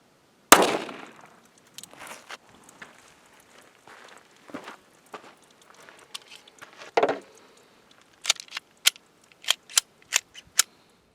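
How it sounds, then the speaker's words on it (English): A Smith & Wesson Bodyguard 380 fires 90 grain Hornady Critical Defense rounds into a 5-pound clay block: one sharp, loud report opens, then quiet shuffling steps and a closing run of crisp clicks and snaps. "We'll be shooting at this 5-pound block of clay using a 380, more specifically a Smith & Wesson Bodyguard 380."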